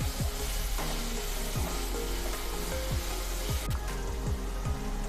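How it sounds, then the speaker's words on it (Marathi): Ginger, garlic and chili paste sizzling in hot oil with onions in a pan, a steady loud frying hiss with repeated scraping stirs at a regular rhythm throughout. "यामध्ये आलं लसूण आणि मिरचीची पेस्ट काढून घेऊया आणि मिनिटभर परतून घेऊया"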